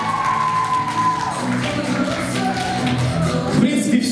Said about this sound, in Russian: Да, это Бондаренко Кристина, друзья, аплодисменты